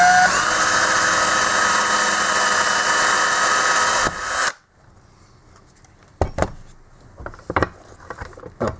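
A power drill bores through the center of a Bosch alternator regulator with a loud, continuous grinding whine for about four seconds. It then cuts off, followed by a few scattered clicks and knocks from handling the part.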